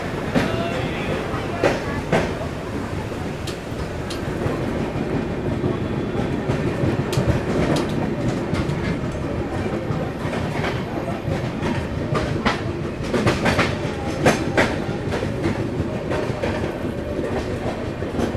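A packed passenger train pulls out of Ara junction in Bihar, its wheels clattering steadily over rail joints in a continuous rumbling rhythm, heard up close from inside a carriage with occasional voices in the background.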